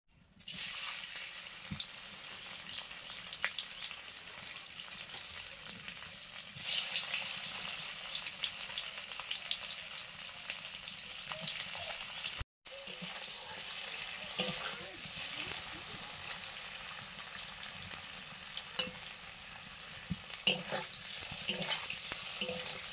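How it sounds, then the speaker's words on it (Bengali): Paneer cubes fry in ghee in a pan with a steady, dense sizzle that fills the whole stretch, joined by occasional stirring clinks and a brief cutoff partway through. "পনির ভাজবো।"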